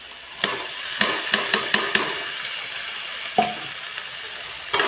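Capsicum and beans sizzle in a pan for egg macaroni, with about a dozen sharp scrapes and clatters from a spoon stirring against the pan over a soft frying hiss.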